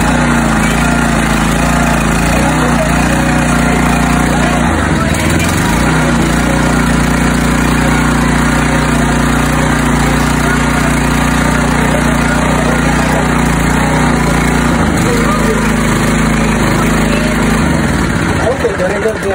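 A manual-start water pump engine runs steadily at close range, a continuous loud drone with a constant hum that holds throughout, with people talking over it.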